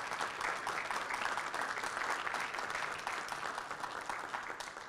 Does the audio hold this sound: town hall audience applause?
yes